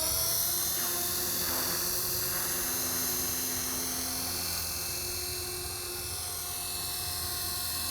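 Helicopter turbine and rotor spooling up in idle up mode, a steady loud whine with high harmonics and constant low throbbing, sustained throughout with no talk.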